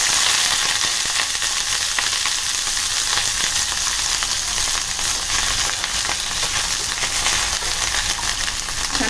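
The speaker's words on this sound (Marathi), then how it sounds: "छान आता लालसर होईपर्यंत परतून घ्यायची आहेत आपल्याला" Brinjal sautéing in plenty of oil over medium-high gas gives a loud, dense, unbroken sizzle and crackle, close up and steady for the whole stretch with no voices.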